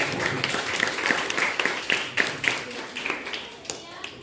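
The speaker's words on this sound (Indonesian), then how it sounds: "silakan beri tepuk tangan untuk kelompok 2" A small group in a classroom presentation claps for a few seconds, scattered and uneven, the claps fading toward the end.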